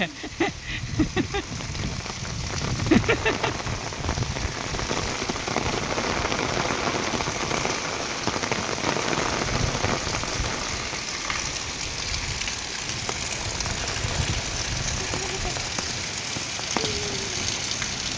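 Heavy rain pours down at night in Gujarat, a dense steady hiss of drops drumming on surfaces, continuous and close for the whole stretch, with faint low rumbling beneath.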